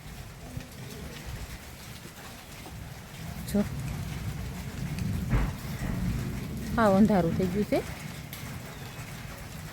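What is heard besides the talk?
heavy rain with big drops, thunder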